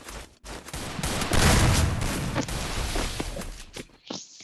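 Dense bursts of rapid gunfire fill a Free Fire match played on PC, loud and continuous crackling shots that briefly drop out and then resume in a short volley.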